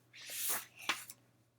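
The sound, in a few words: voice imitating a sneeze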